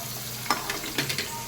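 Onions and green chilies fry in hot oil with cumin, producing a steady close sizzle with a few soft scraping stir strokes.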